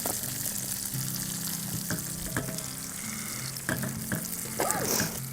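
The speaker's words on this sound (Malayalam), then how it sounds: "കശുവണ്ടി മൂക്കാൻ തുടങ്ങി, കിസ്മിസ് ഇടുവാണേ" Cashews and raisins frying in a pan for payasam, a continuous close sizzle broken by light scraping stirs and a brief louder bubbling near the end.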